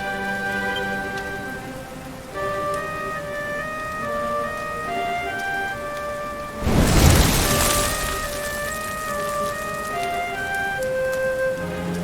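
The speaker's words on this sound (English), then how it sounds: "Looks like the rain's dying down." Steady rain falls in the Dragon Quest XI video game, heard alone for about twelve seconds beneath soft tonal game music, with a brief louder surge of rain noise midway.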